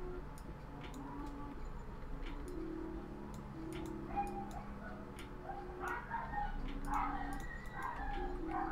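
Dogs bark faintly in a room, their short yaps scattered over a steady low hum and light ticking, with no talk.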